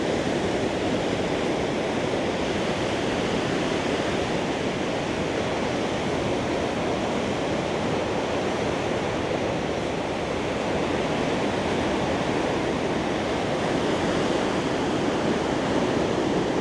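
White River Falls in Eastern Oregon pours with a steady, loud broadband roar of rushing water, constant and unbroken throughout with no voices.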